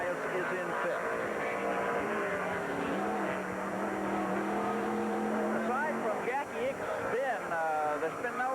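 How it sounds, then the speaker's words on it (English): Onboard an IROC race car in the 1984 race at Burke Lakefront Airport, the engine drones loud and steady with rising and falling pitch sweeps near the end, while a commentator talks over it. "you're back inside Derek Bell's car. That is the 4th place car"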